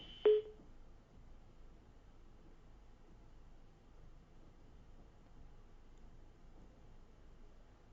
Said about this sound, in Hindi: लगता है राहुल से हमारा संपर्क टूट चुका है।